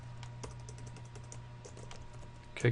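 Quick keystrokes on a computer keyboard while coding in Visual Studio 2010, a run of light clicks over a low hum, ending in one louder tap.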